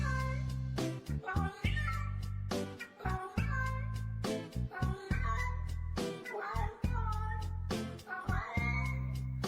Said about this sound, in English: I'm trying to play the I Go Meow sound again